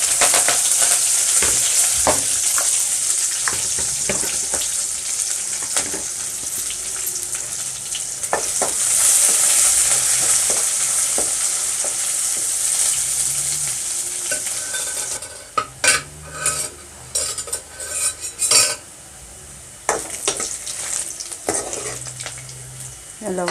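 Green chillies fry in a pan for a countryside-style ridge gourd and field bean dish, with a steady loud sizzle and frequent scraping stirs; the sizzle thins near the end into a few sharper spatula knocks.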